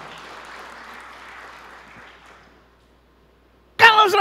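A congregation applauding during a church sermon. The clapping fades out over a couple of seconds into near silence, then a voice starts speaking.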